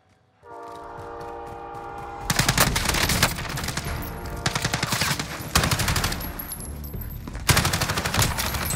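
Dense automatic gunfire in the shooter game Warzone, loud and close, with rapid bursts that keep rattling over steady background noise and grow sharper in several heavy volleys.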